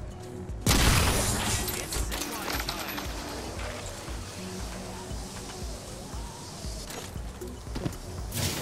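Enemy gunfire in a multiplayer shooter game, a burst of sharp loud shots up front followed by scattered cracks and thuds from above, busy and echoing, without speech.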